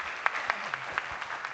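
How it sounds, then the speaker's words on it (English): Light, scattered clapping from a conference audience at IPSCON 2025 for someone speaker, a few distinct claps over a steady background hum, fairly faint. "Big clap for her."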